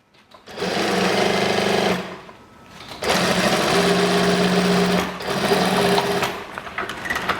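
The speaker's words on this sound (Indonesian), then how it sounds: "Oke, kita ke mesin jahit. Oke, kita jahit ya bagian ini." A sewing machine stitches school uniform trousers in three sustained whirring runs with short pauses between them, close and fairly loud.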